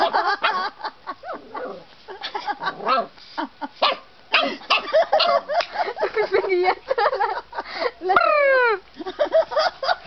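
Dogs playing outside bark, yip and whimper in quick, loud, irregular bursts, with people talking and calling to them throughout.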